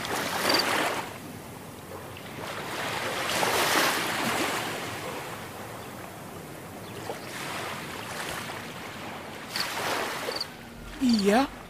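Sea waves wash onto a beach in repeated surging swells with steady wind-blown hiss, the surf rising and falling every few seconds and a brief voice near the end.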